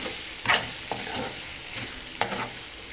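A spoon scrapes and stirs tomato curry sizzling in a pan, with a few distinct scraping strokes over a steady frying hiss, close and moderately loud, with no talk.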